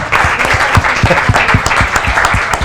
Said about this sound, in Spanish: No, un aplauso.